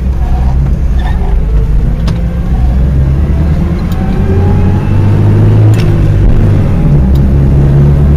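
A Toyota RV's four-cylinder engine drones steadily while driving, a loud, close, continuous road rumble that never lets up.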